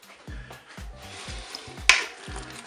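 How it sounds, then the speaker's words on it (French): Ingredients for a ratatouille with an added beef stock cube being stirred in a Cookeo multicooker pot, a series of soft scraping strokes with one sharper clack of a utensil against the pot partway through. "Je mélange"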